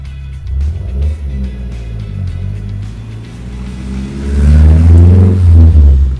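A loud car engine revs and accelerates in an outdoor car park beside a customised Mercedes-AMG GT S, a deep rumble swelling close by and growing louder toward the end.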